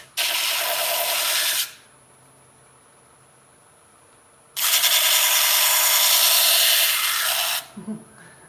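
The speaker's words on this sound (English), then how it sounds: "The thing about using 40 grit on here is I use it for shaping" Coarse 40 grit sandpaper shaping wood, heard as two long, loud, steady abrasive rasping passes separated by a quiet gap, close up with no talking.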